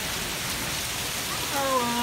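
Rain falls steadily as a continuous hiss of drops on surfaces, with a faint voice appearing briefly at the end.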